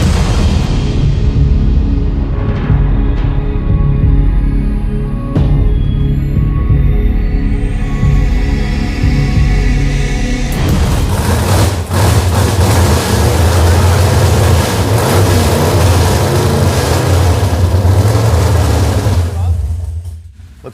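The car engine of the Roadkill Garage Crusher fires up and revs, running loud and close, with a rougher, heavier surge partway through and voices talking over it.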